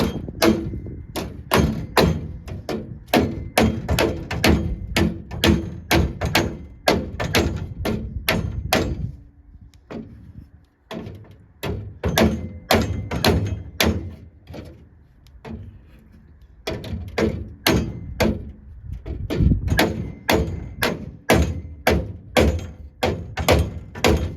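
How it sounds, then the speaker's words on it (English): Rapid metallic hammer-and-dolly blows straightening sheet metal on a 1973 VW Karmann Ghia or Beetle ring out in bursts, dense repeated strikes on metal close up, with short pauses between runs. "Hammer and dolly. Just want to straighten this piece out here a bit more."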